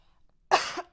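Two sharp, close coughs from a person with a dry throat, the first harsher and longer, the second short, after a moment of near silence.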